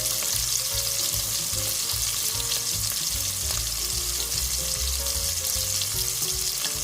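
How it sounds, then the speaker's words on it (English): Sausage browns in olive oil in a pan, a continuous loud sizzle with low rumbling spatters and occasional stirring scrapes, close up and without talk. "Just trying to make sure it all hits the bottom of the pan so it can all brown together."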